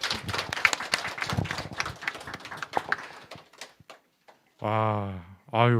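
A church congregation at a Sunday worship service claps in celebration, giving a busy burst of scattered hand claps mixed with voices for about three seconds. The clapping then fades, and a person speaks alone.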